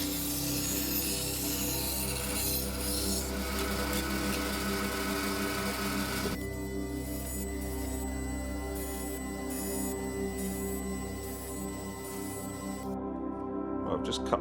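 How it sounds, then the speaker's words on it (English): A drum sander grinds thin flame maple slips down to thickness in a woodworking shop. A steady, loud rubbing whir with humming motor tones runs throughout, and the pitch shifts partway through. "I've just cut my piece of flame maple and run it through the drum sander"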